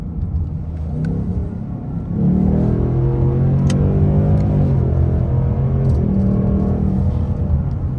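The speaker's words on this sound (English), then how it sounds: "We're gonna do a 40 roll. I know with these 10 speeds, you gotta floor it, then put it back in." A 5.0 V8 car with a 10-speed automatic accelerates hard from a 40 mph roll, its loud, close engine roar rising and holding steady in a strong sustained pull after a quieter opening cruise.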